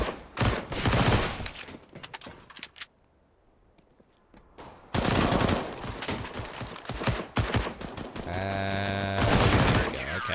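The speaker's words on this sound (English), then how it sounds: "Nice little run and gun around with the SMGs." Bursts of submachine gun fire in a Counter-Strike match on the Train map, rapid crackling volleys with a lull in the middle, loud and close, with a commentator's voice mixed in.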